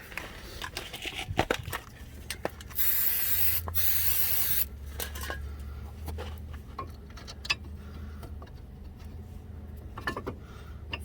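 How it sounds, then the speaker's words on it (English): Aerosol lubricant sprayed onto the refitted caliper bracket bolts during a front brake pad and rotor job on a 2005–2010 Mk5 Jetta, one steady hiss of about two seconds amid light tool clinks and handling noise. "Give them a shot of lube."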